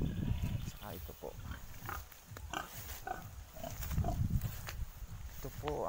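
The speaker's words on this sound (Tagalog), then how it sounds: "Baboy." A farm pig grunts and snuffles up close in short irregular bursts, with a person speaking softly nearby and some rustling in the pen.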